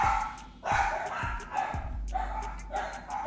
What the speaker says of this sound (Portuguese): Os cachorros sempre atrapalham minhas transmissões